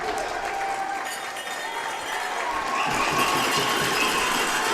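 Home crowd at a junior box lacrosse playoff game cheers and applauds in a loud, sustained roar that swells toward the end.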